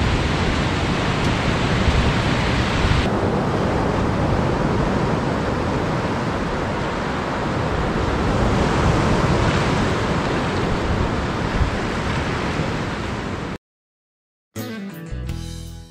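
Steady roar of surf and wind on the beach at Narbonne-Plage on a cool day, a dense continuous wash of breaking waves close to the microphone, cut off abruptly near the end.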